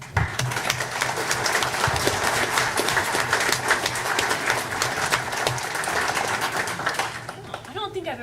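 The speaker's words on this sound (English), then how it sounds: "I've ever gotten applause after a board report before" Applause from a school board meeting audience after a board report, steady dense clapping filling the room for several seconds with some murmuring and voices mixed in, tapering slightly near the end.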